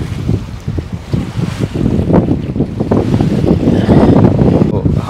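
Wind buffeting and sea waves around a houseboat moving out onto open sea near Alleppey, a loud, steady rushing roar with irregular gusts and splashes and no voices.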